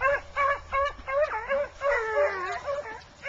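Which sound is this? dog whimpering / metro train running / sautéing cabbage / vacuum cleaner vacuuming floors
dog whimpering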